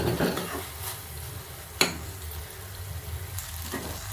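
Tomato pieces cook in a hot pan with a continuous sizzle and crackle. A single sharp utensil knock against the pan cuts through, followed later by softer stirring scrapes, with no talking.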